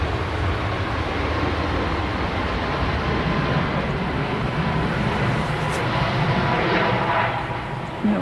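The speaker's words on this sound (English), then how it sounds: "operated by Malta Air, Max 8. It's off to Malta." Malta Air Boeing 737 Max 8 departing Manchester Airport, a steady broad jet roar that holds at an even level throughout and sounds fairly close.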